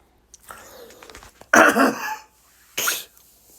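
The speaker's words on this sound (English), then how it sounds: "sorry, I just had to cough real quick." A person coughs close to the microphone, two harsh bursts with a throat-clearing before them, alone with no talk.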